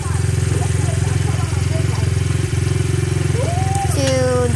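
Dirt bike engine running close and loud with a steady throbbing idle pulse throughout, while a person talks over it near the end.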